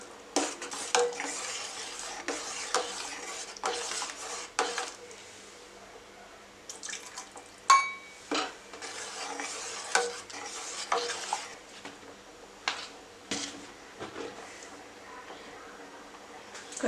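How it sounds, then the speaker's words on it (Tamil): Cornflour is stirred into boiling chicken soup in a pot, giving repeated soft scraping and clinking strokes of a spoon against the pan, with faint bubbling in between and no talk over it. "இப்போ கார்ன்ஃப்ளவர் ஊற்றி கலக்கிக்கலாம்."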